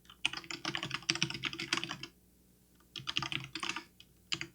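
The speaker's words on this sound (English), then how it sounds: "So let me type the rest out." Fast typing on a computer keyboard comes in two dense runs of clicking keystrokes separated by a short silence, close and clear with no voices.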